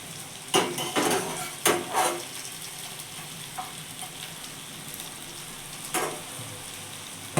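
Mushroom pieces frying on a hot tawa as red chilli masala is stirred through them, with several sharp metal spatula clinks and scrapes over a steady low sizzle, no voices.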